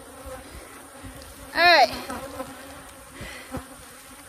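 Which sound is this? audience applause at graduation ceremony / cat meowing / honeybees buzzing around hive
honeybees buzzing around hive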